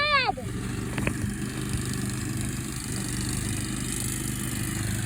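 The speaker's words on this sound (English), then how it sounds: "if you hear the mowing" Riding lawn mower running outdoors, steady mid-pitched engine drone heard continuously at moderate distance, with a brief voice and a squeal near the start.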